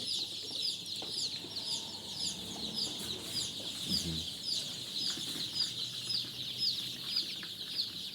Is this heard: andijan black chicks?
yes